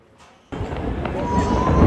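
Ice cracks and breaks away from the Perito Moreno glacier in Argentina: a sudden, loud, sharp crack sounds after a quiet moment, then a broad, steady, roaring rumble builds and keeps going.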